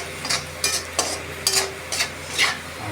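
Garlic frying for a vegetable dragon dish, heard as several bursts of scraping and stirring in a pan roughly every half second over a steady sizzling bed, close and clear with no talking.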